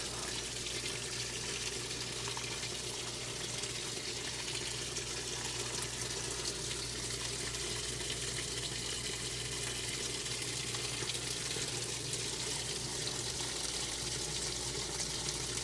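A 1994 Whirlpool Direct Drive washer fills with warm water for its rinse, a steady rushing inflow with a low drone underneath, even and unbroken throughout, with no voices.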